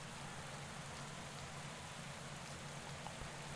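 Rain falling during a women's road race in the cycling game Pro Cycling Manager 2020, a dense, steady hiss of rainfall throughout with no breaks or talk.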